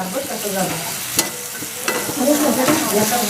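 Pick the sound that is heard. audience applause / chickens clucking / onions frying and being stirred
onions frying and being stirred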